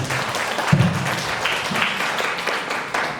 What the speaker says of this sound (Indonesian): Aplaus untuk beliau